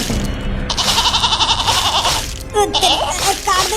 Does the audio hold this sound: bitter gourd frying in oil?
no